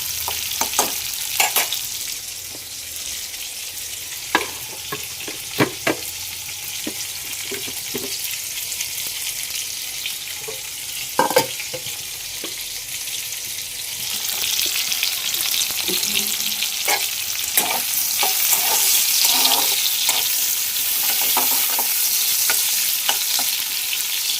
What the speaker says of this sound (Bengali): তারপরে ফুলকপিটাকে ভাজবো